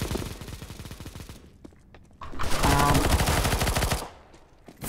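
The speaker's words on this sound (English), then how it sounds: "Stop shooting!" Rapid automatic gunfire in Counter-Strike: Global Offensive, loud and dense bursts of in-game weapon fire with a quieter gap in the middle before a long sustained volley.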